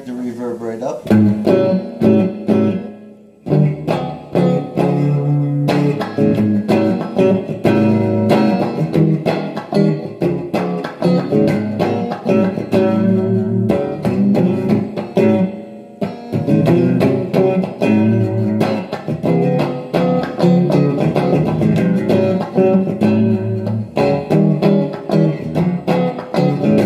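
A clean electric guitar through a Peavey Envoy 110 amp rings out with reverb cranked fully up, chords and notes blurring into a long wash that carries on almost without pause.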